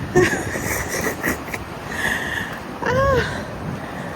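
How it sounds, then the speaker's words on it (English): Strong wind blows steadily across an outdoor path during a morning walk, a broad continuous rush with gusty swells and a brief tonal whistle near the end. "Oh my God, y'all, this wind"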